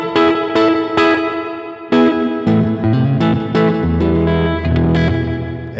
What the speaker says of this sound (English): By taking the dwell and turning it all the way up, you get that tail to be even longer on the reverb.